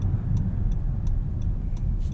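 The 3.5-liter V6 of a 2026 Honda Odyssey Elite minivan hums low and steady while driving, heard from inside the cabin, with a faint regular ticking above the engine drone.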